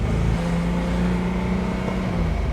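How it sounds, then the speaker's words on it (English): A 1962 Mercedes-Benz 220 SE Cabriolet, a barn find with a matching-numbers engine, drives through suburban streets, heard from inside as a steady, loud, low engine drone with road noise and no talk. "as we're driving through suburbia here"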